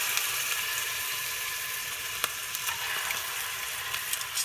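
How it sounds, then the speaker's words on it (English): Scallops sear in a hot pan with a dense, even sizzle that runs throughout, broken by a few small pops and clicks; no talking. "So you want to make sure you get a good sear."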